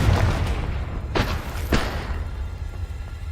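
A Confringo spell blast from Hogwarts Legacy, a dull boom followed by two sharper thudding bursts, close and moderately loud against a low game rumble, with no talk.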